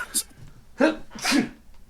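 A person sneezes once sharply after a brief intake of breath, close and loud, in a quiet indoor room.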